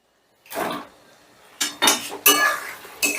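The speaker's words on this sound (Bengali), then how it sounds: "চিনিটা বেশ ভালো করে মিশিয়ে নিয়ে দিয়ে দিচ্ছি ভেজে রাখা আলুগুলো" Metal spoon scraping and knocking against a cooking pan as sugar is stirred into spices and fried potatoes are tipped in, several sharp clattering bursts close by with brief quiet gaps.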